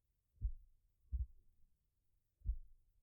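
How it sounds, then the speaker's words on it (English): A gentle heartbeat plays during a guided meditation: three soft, low thumps, the first two close together and the third after a longer gap, with no talk over them. "Listen to the sound of the gentle heartbeat."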